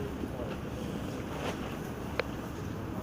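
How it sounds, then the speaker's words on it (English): Steady wind buffeting the microphone outdoors at the Wild South West Rally 2019, a rough continuous rumble with a faint brief tick near the end. "Oh, it's a bit windy."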